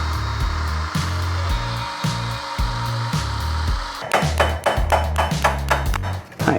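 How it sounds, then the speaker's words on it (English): Ball joint rivets are cut out with a loud power tool that whines steadily with pulsing bursts, then switches to rapid repeated grinding or chattering impacts, close and continuous with no talking. "So you have to cut these rivets out."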